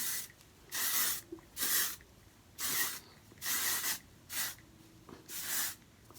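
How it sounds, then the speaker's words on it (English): Seven short bursts of hair texture spray, each hissing for about half a second with brief pauses between, close and fairly loud. "I use the texture spray and I'm going to spray."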